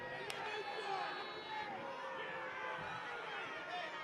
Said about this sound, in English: Crowd getting frustrated now.